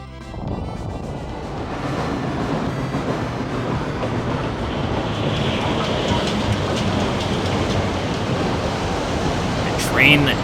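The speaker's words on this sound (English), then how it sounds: "A train that carries a city in it." A train that carries a town arrives in the video game Thousand Arms, a loud steady rumbling roar with a broad hiss that holds for about ten seconds, ending in a brief high squeal.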